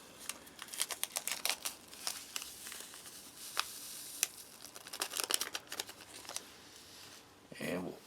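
A sugar packet is torn open and poured into an MRE meal from Argentina, a faint, close run of crinkling paper and scattered ticking grains, irregular and soft, ending in a brief rustle.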